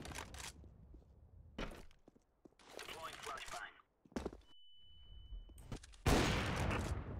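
Gunfire during a Counter-Strike match on FACEIT, with several short bursts of shots scattered through the round, a thin steady tone partway through, and a loud burst near the end.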